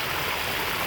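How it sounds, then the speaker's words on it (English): Water flows steadily across the top of a pond beside a perforated 6-inch drainage pipe, a continuous close rushing trickle like a small stream, with no voices. "Water flows across the top"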